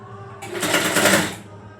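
A sewing machine runs a straight stitch in one steady burst of about a second, rising from a quiet start and tapering off, with a faint background hum before and after.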